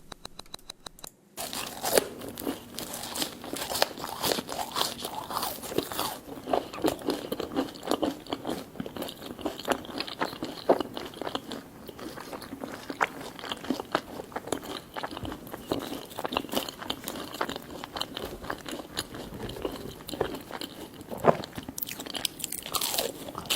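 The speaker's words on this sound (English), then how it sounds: "That crunch of the nugget" Someone bites and chews chicken nuggets close to the microphone in an ASMR eating session, giving a long run of sharp crunches and munching sounds, steady and near, with no talking.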